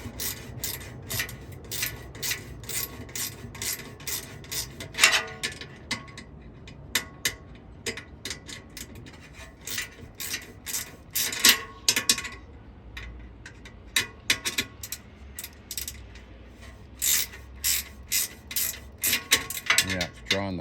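A Rotopax mount being tightened onto an aluminum equipment panel in a van, giving a steady run of close mechanical ratcheting clicks and rasping turns, without talk.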